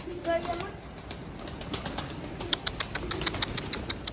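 Pigeons inside a coop coo softly at first, then give a run of sharp, evenly spaced wing claps near the end, all close by over low background noise.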